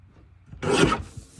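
A paper trimmer slices card stock in one short, quick rasping cut, close and alone in a quiet room.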